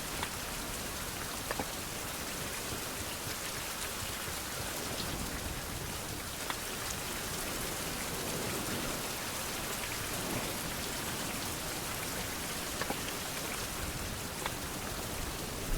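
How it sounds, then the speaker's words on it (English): Steady rain pours down in a survival video game, a dense, even hiss with scattered droplet taps, continuous and close throughout, no voices present. "Rain! It's finally raining!"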